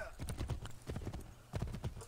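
Rhythmic horse hooves clip-clopping at a steady pace in Assassin's Creed 3, with a brief whinny, close and clear against a faint background.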